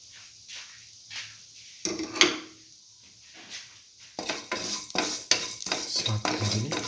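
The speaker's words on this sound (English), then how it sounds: "Saute heavily." Roasted vermicelli pasta being stirred and sautéed in a pan, quiet at first, then repeated scraping and clattering strokes with a soft sizzle, growing busier toward the end.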